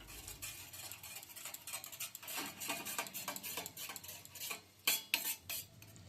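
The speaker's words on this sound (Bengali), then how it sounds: "এবার ভালো করে মিশিয়ে নিচ্ছি।" A spoon stirs a pasta roll filling mixed with soy sauce in a bowl, making soft scraping and light metallic clinks, mostly quiet, with a few louder taps near the end.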